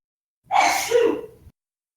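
One short, close human sneeze with a sharp onset and a breathy tail, heard alone against silence during a modded game stream.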